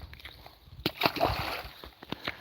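A caught fish, about a pound and three-quarters, dropped back into the Passadumkeag River in Maine in fall makes a couple of close, sharp splashes and sloshes near the middle, with faint voices murmuring around it.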